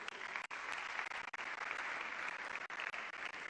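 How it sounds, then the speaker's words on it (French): Steady applause fills a ceremony hall as a scholarship student is welcomed, a continuous wash of clapping from a sizable audience with brief dips. "Sous vos applaudissements, Mbaya Sharon Rose."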